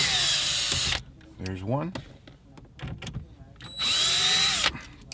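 A power drill whirs in loud bursts removing T20 Torx screws from the radio of a 2010–2014 Golf GTI, two long runs separated by a quieter gap in which someone speaks briefly.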